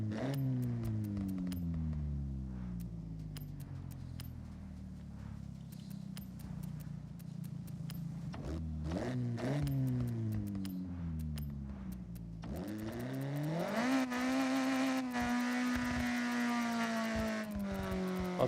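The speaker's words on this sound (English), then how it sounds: "Almost feel like it's a bike engine in there." A rear-wheel-drive car's engine in the video game Forza Horizon rises and falls in pitch through repeated gear changes, then climbs into a louder, harsher rev near the end.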